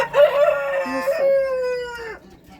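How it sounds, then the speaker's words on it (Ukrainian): A chicken in a backyard coop gives a loud, drawn-out crow-like call close by, with harmonic tones bending down at the end, followed by softer clucks. "вже сидить курка"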